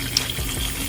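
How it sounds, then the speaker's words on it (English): An aquarium filter cartridge rinsed under a running tap, a steady close rush of water with a slight splashing texture. "this one needs to be rinsed out"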